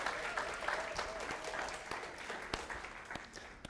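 A church congregation at a Sunday service applauds the worship team, steady dense clapping from a crowd that runs throughout, moderately distant with sharper individual claps standing out.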